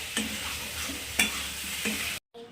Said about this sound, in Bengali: তরকারিটা ভালো করে কষিয়ে নিচ্ছি, আলু সয়াবিনটা